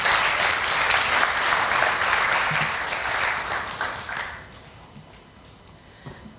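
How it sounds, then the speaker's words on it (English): Warm applause from a congregation at a Sunday church service, a dense clatter of many hands for about four seconds that then tapers off into quiet room noise with a few stray claps. "Let's give them a round of applause."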